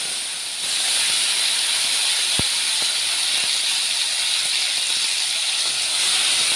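Mustard seeds, cumin, asafoetida and chillies temper in hot oil, producing a loud, continuous sizzling hiss close by. A single sharp click cuts through it, with no talking.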